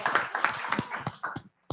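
An audience at a Web3 public-goods panel event applauds. There is a short burst of scattered, fairly close clapping that stops abruptly.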